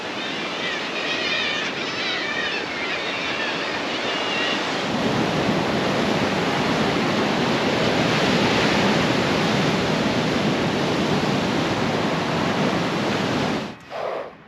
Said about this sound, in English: Got a crashing sea below.